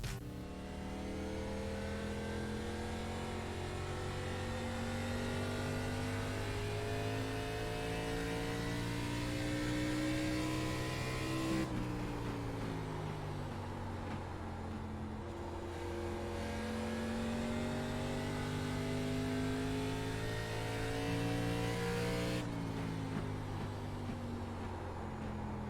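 A race car engine drones through an oval lap in the iRacing simulator, holding a loud, steady high-revving whine that dips and climbs again twice, as if shifting or lifting through the turns.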